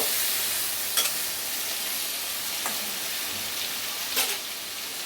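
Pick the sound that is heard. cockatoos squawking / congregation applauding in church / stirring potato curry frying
stirring potato curry frying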